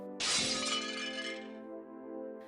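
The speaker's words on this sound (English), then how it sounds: "I reached out and shattered the mirror. The moment the glass exploded" A mirror shatters in one sharp, loud crash of breaking glass, followed by a ringing tail of tinkling shards that fades over about two seconds, with no speech.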